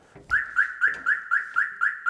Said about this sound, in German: Natürlich kann man eine Alarmanlage auch mit verschiedenen Sensoren koppeln. Zum Beispiel einen Niveausensor, der die Felgen schützt.